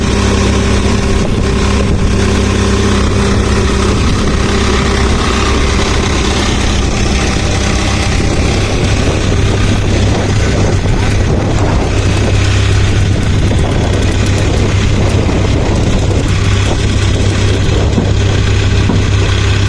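A large fishing boat's engine idles at a pier in Dinahican, a loud, steady low rumble with a constant droning hum that holds unchanged throughout.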